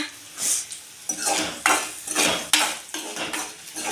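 A spoon clatters and scrapes against a pan as onions are cooked and stirred, with several close, sharp metallic strokes in an irregular rhythm and no talking.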